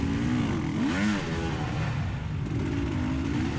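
Motorcycle engine revving hard while stuck in snow, its pitch swooping up and down in loud, continuous bursts close by with no voices.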